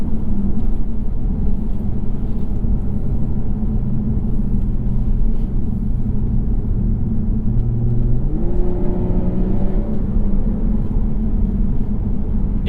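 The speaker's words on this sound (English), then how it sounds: "the turbo gives you so much power with that inline six that you don't feel a dead spot" A 2015.5 Volvo V60 T6 Polestar with a turbocharged inline-six drives under steady, loud engine and road rumble. Partway through, the engine note climbs in pitch as the car pulls harder under acceleration.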